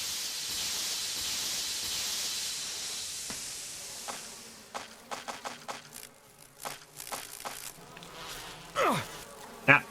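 Bees in the Resident Evil Remake video game, an angry insect drone with hissing, followed by a string of sharp buzzing passes and close swoops that rise and fall irregularly.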